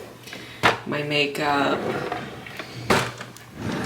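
Apartment drawers holding skincare and makeup slide open and shut with two short knocks under a woman's nearby chatter.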